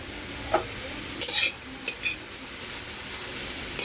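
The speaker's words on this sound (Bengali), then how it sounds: "কানাই শাকটা কেটে নিয়েছি এখন তেলে নিব" Chopped kanai greens stirred in hot oil in a pan, with a steady low sizzle and a few sharp scrapes of a spatula against the metal, close and clear.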